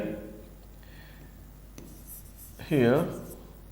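Chalk or marker writing on a board during a maths lesson, a soft scratchy stroke sound running under a teacher's brief speech, with a louder voiced burst near the end.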